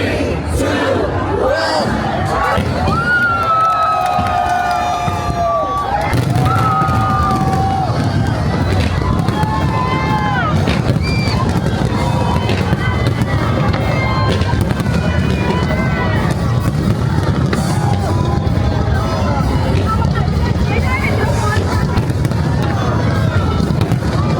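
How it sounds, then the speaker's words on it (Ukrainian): Fireworks pop and crackle continuously at a New Year's display in Bangkok while a crowd shouts, cheers and chatters loudly all around. "І вже після цього почався сам феєрверк."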